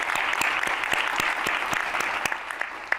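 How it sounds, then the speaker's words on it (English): Sustained applause from a school event audience, dense steady clapping that fills the whole stretch at a fairly loud, even level, with no voices over it. "let's give her a round of applause"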